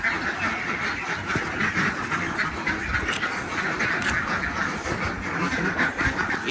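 Many ducks quack continuously in a dense, noisy flock, near and loud, with a steady clamor of overlapping calls.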